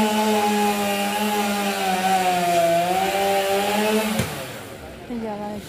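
Chainsaw cutting down a tall coconut tree, its engine droning loudly and steadily for about four seconds, then cutting out sharply and briefly revving again at lower pitch, no speech heard.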